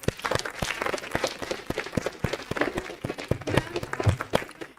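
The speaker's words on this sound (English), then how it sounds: "a special clap for her." An audience at a healthcare and meditation talk breaks into applause, with sharp, uneven claps scattered densely throughout and fairly close by, and faint murmurs underneath.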